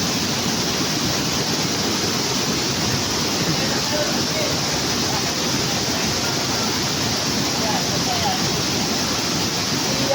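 Depalyon Falls, a waterfall, rushing in a constant broad roar of falling water, loud and steady from start to finish with no break.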